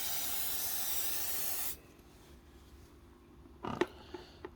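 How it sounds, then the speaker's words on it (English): Aerosol cleaner sprayed onto a K&N pod air filter gives a loud, steady hiss for nearly two seconds, then cuts off abruptly; a few soft handling knocks and rubs follow. "we're going to spray from the other side now."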